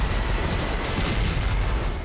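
Dense, rumbling blast noise fills the whole stretch, loud and sustained like distant explosions rolling together, from drone strikes on the Orenburg gas plant in Russia.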